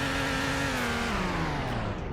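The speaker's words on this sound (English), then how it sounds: "let's rev it a few times" A 2021 Mercedes GLB in AMG trim revs in the Greenville video game, a loud continuous engine note that climbs and then eases slightly, with no one talking.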